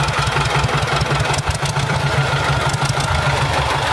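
A tractor engine chugs steadily at a low rumble, close and loud, with no voices over it.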